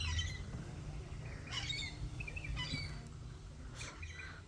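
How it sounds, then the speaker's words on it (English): Birds squawk and chirp in a tree outdoors, a few sharp call bursts spaced across the stretch over a steady low background rumble, moderately distant, with no talking. "And there's those freaking squawky birds again."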